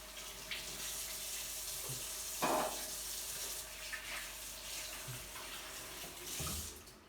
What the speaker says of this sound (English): the first step is to wash your hands